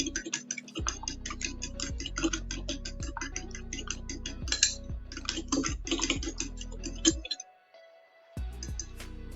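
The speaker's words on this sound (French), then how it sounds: "On va mélanger à l'aide d'une fourchette." Fork tapping and scraping against a bowl while mixing a seasoned filling for smoked salmon and Boursin puff pastry rolls, a rapid run of close, crisp clinks and ticks that stops briefly near the end, then resumes.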